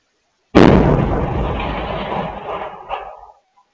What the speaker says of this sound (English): This is video of the explosion captured on a home security camera.